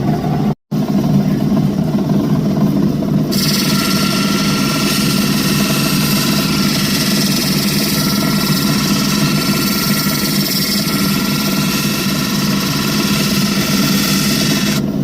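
A lapidary wheel grinds an opal on the final smoothing wheel before polishing, giving a steady, loud motor whir with a continuous grinding hiss that brightens and thickens after a few seconds and then holds.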